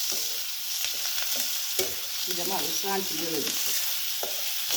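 Curry ingredients, onion among them, are sautéed in a pan for a horse gram dish, a steady close sizzle with scraping stirring strokes, while a voice speaks briefly in the middle.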